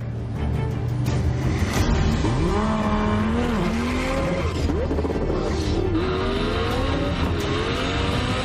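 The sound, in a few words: car accelerating during a speed attempt run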